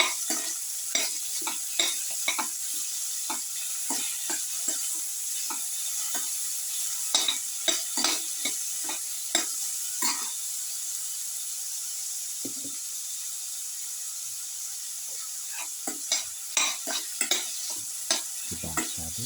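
Winter melon and carrot pieces are sautéed in sauce in a pan: repeated close scraping and clacking strokes from a spoon over a light sizzle, bunched in bursts with short quiet gaps.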